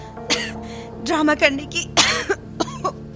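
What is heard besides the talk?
woman coughing in audio story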